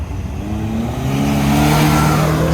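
Turbo car leaving a car show, its engine revving loud and close in one rising, continuous pull that builds steadily, with no talk over it.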